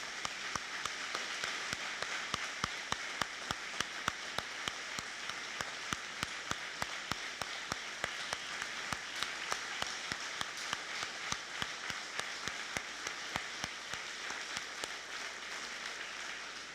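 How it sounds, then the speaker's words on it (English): An audience at a Fire Academy graduation ceremony claps for an honoree, a steady patter of many hands held at an even, moderately loud level throughout. "I'd like to just take a moment and give John a round of applause."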